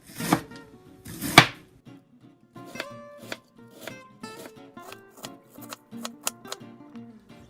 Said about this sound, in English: Slice it down the center in quarters, and then begin to slice into very thin strips.